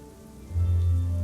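Warm, magical rain falls on a mountain village in AFK Journey, a steady close patter that swells suddenly into a heavier, louder downpour partway through.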